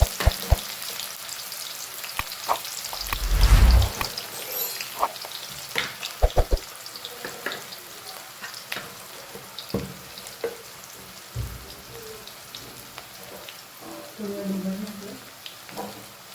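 Onions and red chili sautéing in a pan with cumin and bay leaf for dal makhani: a loud, continuous sizzle with stirring scrapes and a few heavier knocks near the start.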